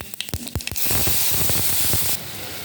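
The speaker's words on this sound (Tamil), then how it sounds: "இந்த பூண்டு, தக்காளி, புளி கலவையை அதில் ஊற்றிடலாம்" A garlic, tomato and tamarind paste hits hot mustard-seed tempering with a few wet pops, then bursts into a loud, steady sizzle that settles slightly toward the end.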